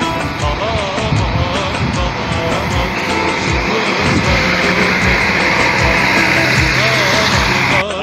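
An intercity coach pulls into Bursa bus terminal with a loud, steady engine drone and rumble that fills the whole stretch, with busy terminal noise behind it.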